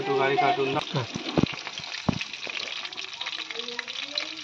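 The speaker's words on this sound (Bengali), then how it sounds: "আর একটু লাল করে ফ্রাই করে নেব" Chicken pakora fries in hot oil with a steady soft sizzle and bubbling, broken by a few sharp clinks and scrapes of a utensil against the pan, while a voice speaks briefly at the start.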